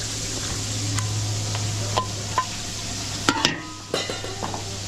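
Garlic and onion sauté in a pan for chop suey, giving a faint steady sizzle with a low hum beneath and a few sharp utensil clicks and scrapes near the end.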